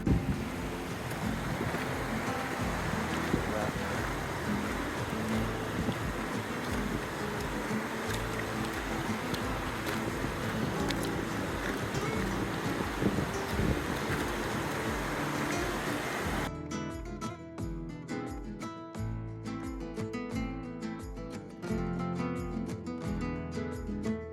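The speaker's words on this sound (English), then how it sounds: "It's super duper windy now." Strong wind roars steadily across the microphone on the Laguna Torre hike in Argentina, a loud constant rush that continues throughout.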